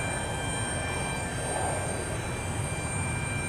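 An airliner, flight 129 bound for Rio de Janeiro, departing Houston Intercontinental airport, producing a steady, distant, even engine roar and rumble with faint high whining tones and no talk.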